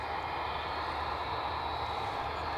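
A Boeing 757 jet at Edinburgh Airport gives off a steady, continuous engine roar with a broad hiss and low rumble, holding at an even level from start to finish with no voices.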